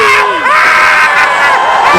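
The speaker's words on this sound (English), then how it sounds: "And also a good applause from the spectators." Cricket spectators at a Champions Trophy match between India and Bangladesh roar and cheer loudly, a dense crowd din with whoops and shouts, close and sustained throughout.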